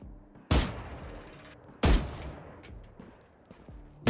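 Valorant practice range shots at targets: three loud, sharp gunshots spaced over about four seconds, each with a short echoing tail, close and alone with no talking.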